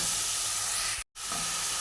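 Spice paste for a Bengali vegetarian potato and cauliflower dish fries in oil in a pan with a soft, steady hiss and sizzle that briefly cuts out, then resumes.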